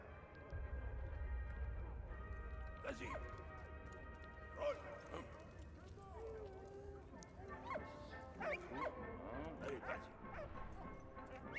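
Barks and yips from a dog in the video game Valiant Hearts come in scattered bursts over a busy game soundtrack of low rumble and music, with talk underneath.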